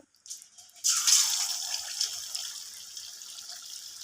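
Vegetable fritters made with greens are dropped into hot oil, setting off a sudden bright bubbling sizzle that swells and then settles into a softer, steady crackle.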